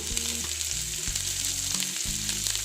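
Carrots and onion greens sizzle in a hot pan, a dense continuous frying hiss close and loud, with a low mechanical hum underneath.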